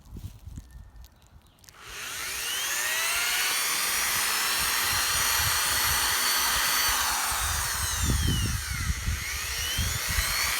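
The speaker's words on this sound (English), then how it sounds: "Drill another spacer." A power drill with a 5/32 bit spins up after a short pause and runs with a loud, steady high-pitched whine, drilling continuously through a spacer to the end.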